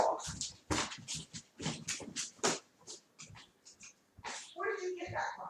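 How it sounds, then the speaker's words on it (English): A dog caught eating plastic whimpers and snorts in short bursts close by, mixed with frequent scolding adult and child speech in a quiet room. "You are a bad dog."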